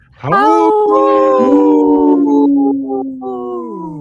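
A man imitates a wolf with his voice in a radio studio, giving a long, loud, wavering howl that rises and then slowly falls, with a few breaks near the end.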